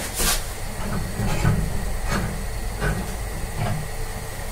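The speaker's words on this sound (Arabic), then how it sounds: "كده خلاص البرتقال بتاعنا بدأ يغلي اهو" Steady hissing bubble and sizzle of orange syrup with orange slices boiling in a pan over high heat, with soft periodic pops and crackles, close by and continuous.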